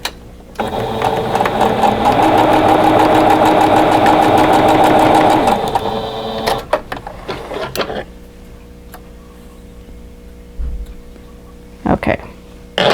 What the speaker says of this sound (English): So we're going to sew that on